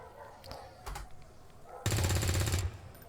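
Gunfire in the video game XCOM 2: a couple of isolated shots, then a loud, rapid automatic burst lasting under a second, up close and sharply rhythmic.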